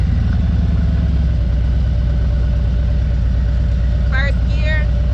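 A motorcycle engine with newly installed Factory47 handlebars idles steadily and loud while the rider works the clutch in first gear, a continuous low rumble holding even throughout.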